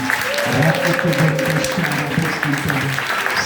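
A church congregation claps and cheers loudly and steadily for the Holy Spirit, with a voice and music carrying through the applause.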